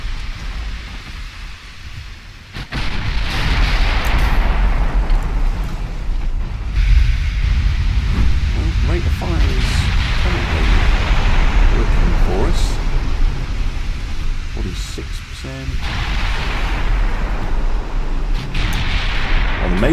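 Naval main guns fire in the video game Ultimate Admiral Dreadnoughts, with a King George V battleship build, giving a steady heavy rumble of distant booms and rolling gunfire that sets in after a quiet opening.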